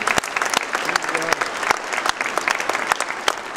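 Audience applause for young dancers at an evening performance, dense crowd clapping with a few sharp, close claps standing out, plus a brief voice or cheer partway through.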